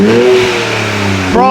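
A Nissan 400Z with an upgraded exhaust gives one loud, close throttle blip, rising and falling in a short burst of revving.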